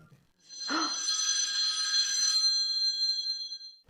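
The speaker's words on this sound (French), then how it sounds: "le téléphone sonne soudainement" Telephone bell ringing in a single sustained metallic trill lasting about three seconds, loud and close, preceded by a brief soft thud, with no one speaking.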